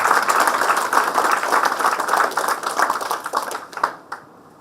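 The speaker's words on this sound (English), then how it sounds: "definitely requires a very big round of applause, friends." Audience applause at a book launch for a legal guide on the NCLT and Appellate Tribunal, a dense steady round of clapping from a crowd that thins and fades out over the last second.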